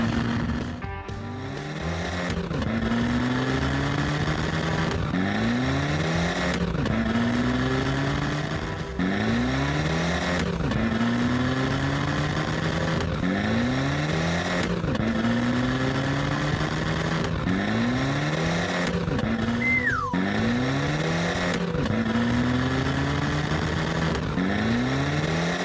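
Cartoon toy race cars, pink, green and orange, rev in repeated rising engine sweeps, one after another in a steady rhythm, with a brief tire squeal, loud and close with no talk.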